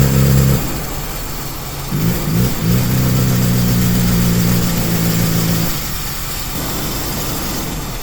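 A rare Toyota car engine idles unevenly and loudly, its low rumble surging and sagging, then revving up for several seconds before dropping back to a rough idle.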